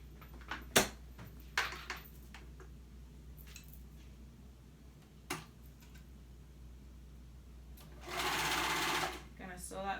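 Sewing machine stitching a sleeve onto a dress at the shoulder seam, a faint steady hum with scattered clicks and taps and a louder burst of stitching near the end, under soft talking.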